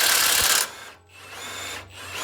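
A power tool whirs loudly for under a second while removing the track bar bolt on a Ford F250 truck during a leveling job, then drops to a quieter mechanical hum and brief clatter.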